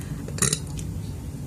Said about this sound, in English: And I got a burp.